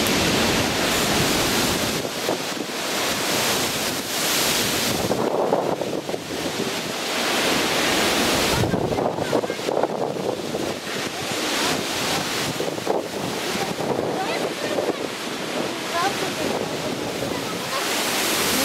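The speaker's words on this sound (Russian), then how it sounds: "Такой ветер сильный." Strong storm wind roars steadily and loudly, buffeting the microphone with continuous gusts on an outing to a cross, with no pause in the rushing noise.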